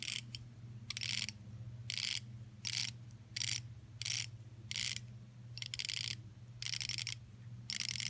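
The bezel of a Watch&Style Chameleon SKX watch case turns in short bursts of crisp, close ratchet clicks, about a dozen separate runs with brief pauses between them, quiet and alone.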